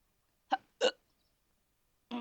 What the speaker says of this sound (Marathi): ग मला लागली कुणाची उचकी.